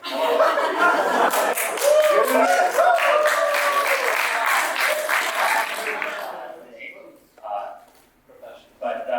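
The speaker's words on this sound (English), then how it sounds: "while they're applauding for you." Audience applause at a music composition presentation, a dense, steady wash of clapping that fades over about six seconds, mixed with light chuckles, followed by a few scattered claps and quieter room sound.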